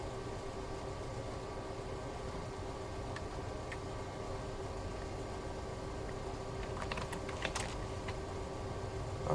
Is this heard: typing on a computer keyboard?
yes